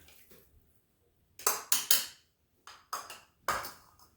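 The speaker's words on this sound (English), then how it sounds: "Okay, spoon the pumpkin in." Pumpkin is spooned into a metal mixer bowl in a sharp series of about five clinks and scrapes, spoon striking the bowl's rim and sides in quick close bursts between brief quiet gaps.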